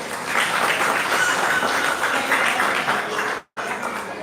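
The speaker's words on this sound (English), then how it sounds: "Round of applause for Amalia" Audience applause at a Pre-K school leaving ceremony, a steady wash of clapping that holds for about three seconds, cuts out briefly, then resumes.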